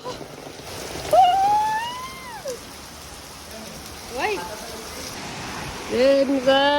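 Heavy rain and hail pour down during a storm in Kathmandu, a constant hiss of rainfall under several clear whistling, chirping calls that rise and fall near the start and end.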